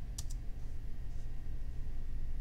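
A couple of quick, faint keystrokes on a computer keyboard near the start while a build command for Hashcat is entered on Linux, then steady low background hum with no further typing.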